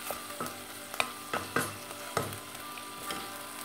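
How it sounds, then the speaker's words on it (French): Chunks of meat browning in a pan for a Tunisian parsley tajine, with a soft steady sizzle broken by several sharp clatters of stirring and a few louder spits, close and with no talking. "une fois que j'ai bien fait revenir les morceaux de viande"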